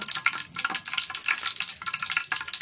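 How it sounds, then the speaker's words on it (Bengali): Bay leaf, cinnamon, cloves and spices sizzling in hot oil on a clay stove while cooking morog polao: a steady, crackling hiss with small bursts throughout, close and continuous. "তেলের মধ্যে তেজপাতা দিয়ে দেই, মশলা টসলা সব কিছু দিয়ে দেই"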